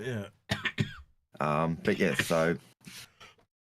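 Close, voiced coughing and throat clearing in several rough bursts, sometimes run together with hoarse vocal sounds.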